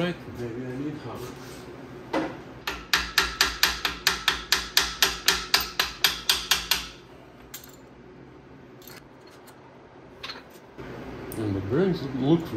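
A fast series of sharp metallic hammer blows on engine parts during the teardown of a 1972 Triumph GT6 engine, about fifteen in a steady rhythm, ring out close by, followed by quieter clinks and shuffling.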